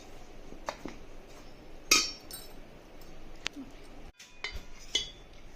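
A spoon clinks against a bowl a few times while salt and rava dosa batter ingredients are mixed, with sparse, light scraping and tapping sounds in a quiet kitchen.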